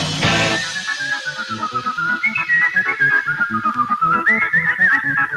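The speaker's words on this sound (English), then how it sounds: "Oh yeah, and then he whistles." A long, bright melodic whistle, made through the teeth, rises and wavers over a steady rhythmic beat near the end of a played song that follows a flute solo.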